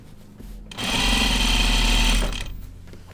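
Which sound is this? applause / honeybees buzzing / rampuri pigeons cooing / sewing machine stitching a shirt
sewing machine stitching a shirt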